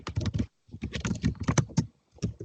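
Rapid, uneven clacking of keys on a computer keyboard, close and fairly loud in bursts with a short pause, alone with no talking.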